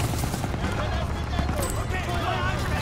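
An MG 42 machine gun fires in a video game, dense bursts of rapid gunfire and battlefield noise mixed with a player's voice talking over the action.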